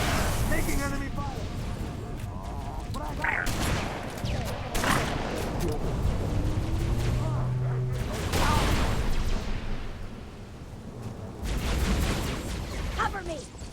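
Enemy gunfire in the Halo Reach mission Nightfall on Heroic difficulty: dense bursts and scattered shots keep up throughout, loud and close, with voices talking and calling out over the battle.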